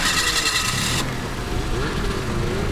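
Arctic Cat four-stroke snowmobile engine starting, a brief louder burst that settles into a steady, fairly quiet idle, with a voice speaking over it.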